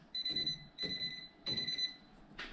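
An electrical voltage tester, held near wiring at a bathroom fan timer switch, emits three steady, fairly quiet electronic beeps of even length and spacing. A faint click follows, and nobody talks.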